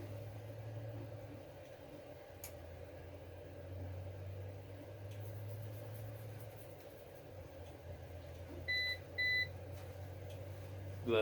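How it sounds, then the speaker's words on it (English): An APC BN450M 450VA UPS battery backup, running on battery, sounds two short electronic alarm beeps near the end over a steady low mechanical hum, with a faint click earlier on. "The buzzer isn't as annoying as the older generation ones"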